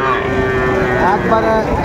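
A bull calf moos loudly and close in one long drawn-out call at a busy Raniganj cattle market, with market noise and voices in the background.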